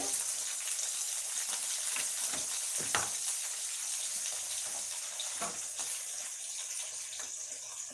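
Elephant foot yam sautés in a pan with green chillies, onion, tomato and salt, a continuous bright sizzle and hiss with a few scraping stirs, moderately close and steady throughout.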